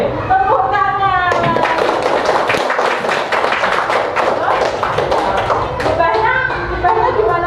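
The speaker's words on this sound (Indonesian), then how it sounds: "Oke, tepuk tangan." Children in a classroom clap hands in a dense, sustained burst of applause-like slaps, loud and close, mixed with young voices talking and calling out throughout.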